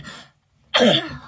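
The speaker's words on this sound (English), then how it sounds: "I really shouldn't be coughing like this" A person coughs twice, close by, with a brief pause between a softer first cough and a harsher, louder second one.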